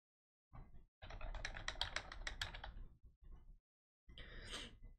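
Bursts of quick, close keystrokes on a computer keyboard, a dense run of clicks in the middle with short pauses before and after, quiet and alone.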